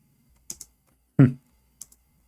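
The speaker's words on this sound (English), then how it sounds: "Oh, I'm typing in English again." Computer keyboard typing in a quiet room: a few short key taps, then a louder brief clatter of keys, followed by two more light taps, alone with no talking.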